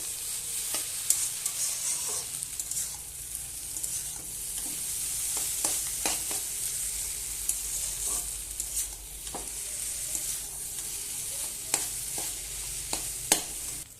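Chow mein is tossed in a hot, sizzling pan, a constant frying hiss punctuated by sharp, repeated spatula scrapes and knocks against the pan.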